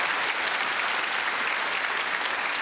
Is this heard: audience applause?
yes